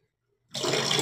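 Water runs through the pipe of an electric geyser under repair, starting abruptly after a moment of silence and continuing as a steady, fairly loud gushing rush.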